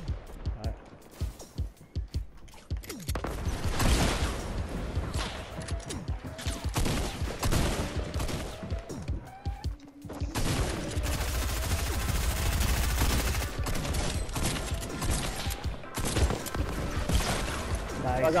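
Fortnite gunfire crackles in repeated rapid bursts of automatic and single shots throughout a chaotic battle, near and loud at times, with players talking over much of it.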